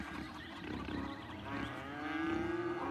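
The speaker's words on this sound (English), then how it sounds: "When these cows moo, it has this echo, and it's kind of creepy." Cattle in the city-building game Cities: Skylines give a drawn-out, echoing moo that swells through the clip, hollow and slightly eerie, heard alone without talk.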